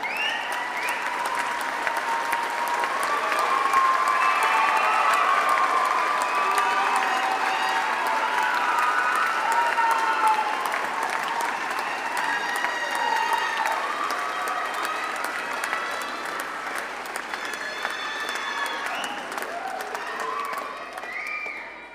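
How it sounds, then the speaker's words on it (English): Graduates at a Te Pūkenga Unitec graduation ceremony applauding their families and friends, a sustained dense wash of clapping from a large crowd with scattered cheers, lasting throughout before tapering at the end. "if I could ask you, our new graduates, to stand up and applaud your whānau, your friends, and those that are come here to cheer you on"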